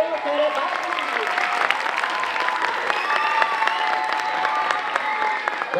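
Audience clapping steadily throughout at a children's clown performance, a dense continuous patter with a few bright voices calling out over it.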